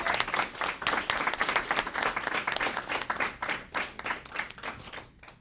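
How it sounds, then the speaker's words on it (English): An audience applauding a guest speaker at a mental health talk, a modest group of distinct, close claps that keep up a lively rhythm and then thin out and stop. "If we could give her a round of applause for being here."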